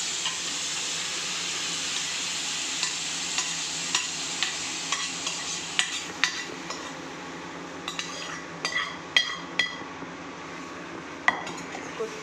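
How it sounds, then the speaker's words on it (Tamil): A spoon scrapes and clinks around a pan of quail (kaadai) gravy, steady soft simmer beneath with irregular metallic taps growing busier toward the end, close and moderately quiet. "நல்லா இலக்கி கொத்தமல்லி போட்டு ஒரு இலக்கிட்டு"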